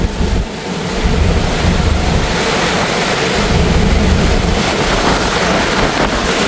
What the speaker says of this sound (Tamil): இப்போ கொஞ்சம் காற்று அடிக்குது,